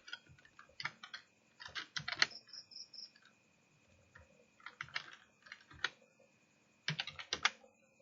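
Username typed on a computer keyboard while signing up for a Fiverr account: close, quiet clusters of key clicks in short bursts separated by pauses, no speech.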